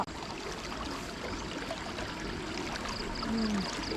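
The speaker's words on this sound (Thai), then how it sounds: "น้ำไหลออกท่อ" Steady rushing water pours continuously out of a pipe in farm fields after rain, a constant splashing flow close by with faint background noise.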